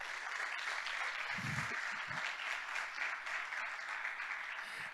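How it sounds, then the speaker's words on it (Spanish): A church congregation claps during a sermon, a sustained roar of applause with a few low murmuring voices mixed in underneath. "Eso merece un aplauso del Señor."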